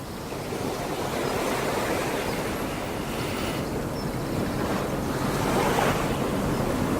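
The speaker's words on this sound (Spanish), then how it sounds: "pensando en olas del mar." Ocean surf rolls steadily with a broad, continuous wash of breaking waves, mixed with some wind noise, and no voices.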